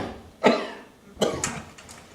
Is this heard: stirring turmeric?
no